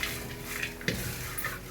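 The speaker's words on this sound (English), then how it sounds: "while the fish is frying" Fish fries in hot seasoning oil in a pan, a steady close sizzle with light clinks of utensils and occasional stirring knocks.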